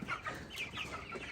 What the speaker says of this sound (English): And these are the meat chickens.